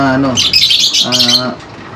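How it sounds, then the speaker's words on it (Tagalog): Birds chirp and tweet close by in quick bright bursts in an aviary, with soft cooing mixed in and a voice speaking briefly. "pinaka-veteranong mga ibon dito sa ating aviary"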